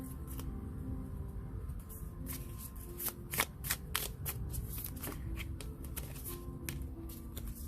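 Tarot cards being dropped and shuffled by hand, a steady papery riffling with several sharper slaps and flutters standing out near the middle, close and fairly quiet with no talking.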